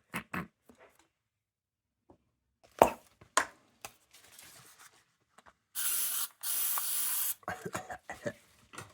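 Bursts of Easy-Off aerosol oven cleaner spray from a can, including a long hiss of about a second and a half, between scattered handling clicks and taps.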